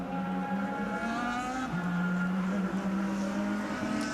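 An IndyCar race car rolls out onto the track during qualifying for the 2009 Indy Japan 300, its engine holding a steady droning tone with a pitch shift midway, heard at a distance.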